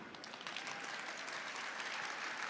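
Soft, distant audience clapping at a corporate talk on Google cloud AI continues as an even patter, with no pauses.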